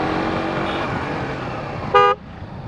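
A motorcycle horn gives one short, loud beep over a steady road and engine rumble, cutting off sharply after about a fifth of a second.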